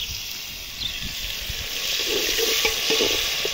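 Onion, tomatoes and green chillies frying in a pan, a steady hiss of sizzling oil with soft scraping stirs and small pops, growing slightly louder toward the end, no voices.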